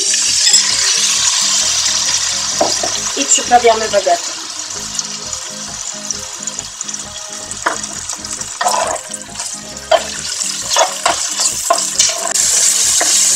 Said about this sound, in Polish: Filet z kurczaka smażymy na patelni